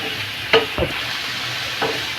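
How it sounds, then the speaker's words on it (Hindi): Vegetables frying in a pan over a medium gas flame are stirred with a spoon, giving a steady soft sizzle broken by a few brief scraping strokes, close and moderately quiet, with no talking. "ऐसे सब्जी को बराबर चलाते रहेंगे ताकि नीचे से जले ना"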